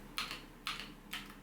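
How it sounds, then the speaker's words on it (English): Three separate bursts of computer keyboard typing, each a quick cluster of clicks, spaced about half a second apart over a quiet background. "If I have a computer, I can use my computer keyboard as well."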